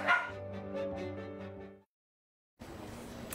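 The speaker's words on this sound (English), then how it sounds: "This lovable pup was the first pet adopted at the Humane Society of Greater Miami during Clear the Shelters last year." A shelter puppy adopted from the Humane Society yips and whimpers in close, high-pitched bursts for nearly two seconds, then falls silent before a noisy burst of room sound returns.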